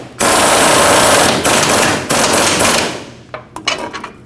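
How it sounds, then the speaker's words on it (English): A loud, continuous rattling burst of a power tool driving a bolt into a fuel tank strap on a 2005-2021 Nissan Frontier. It runs for about three seconds, then breaks into a few short, choppy bursts as it finishes. "Once that bolt is started, tighten it up."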